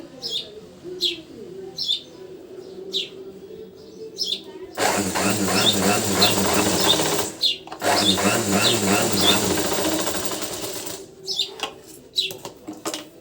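An electric sewing machine stitches a cross belt in two long, steady whirring bursts, with birds chirping intermittently before, between and after the runs.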